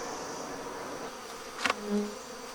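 Honey bees pour from an opened hive in a very strong colony, a close, continuous buzzing hum with one brief louder insect pass flying near.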